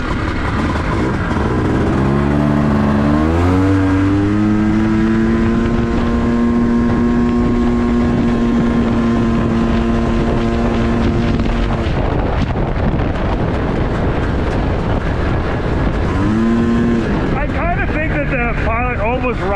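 A Honda Pilot FL400R side-by-side on a warm-up lap, its engine droning steadily and rising and falling in pitch as it revs, with wind buffeting the microphone and someone talking over it.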